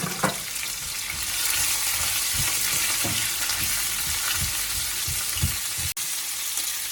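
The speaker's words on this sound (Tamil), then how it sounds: "இப்போ இதையும் போட்டு நல்லா வதக்கி எடுத்துக்கொள்வோம்" Onions and spices sauté in a pan for a Sri Lankan-style mud crab curry with mango, a steady loud sizzle broken by regular scraping stirs of a spoon, with no voices.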